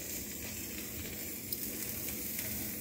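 Steady crackling sizzle from a hot greasy pan with a wet spatula while making French toast, close and continuous, with a few sharper pops and no talking.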